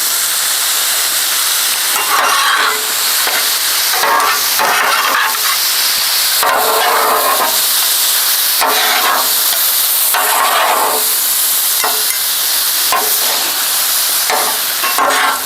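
Steaks searing in a hot pan for a Cuban beef steak sub, a loud continuous sizzle broken by repeated bursts of stirring and scraping, close and without voices.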